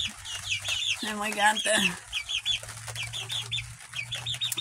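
Hens cluck repeatedly in a backyard chicken coop as they settle for bed, a busy chorus of short calls throughout, with a louder burst of clucking midway while a person talks nearby.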